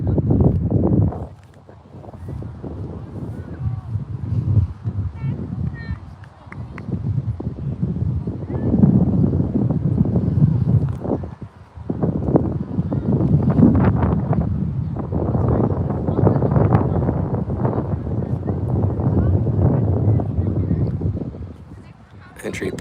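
Gusty wind buffets the microphone at an outdoor women's football match, a rumbling low roar that swells and drops throughout, with a commentator talking over it.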